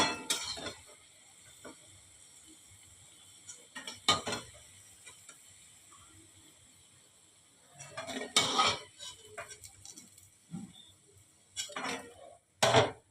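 Metal utensils clatter and scrape against a pan as green banana koftas are lifted out, in a few sharp bursts separated by quiet stretches.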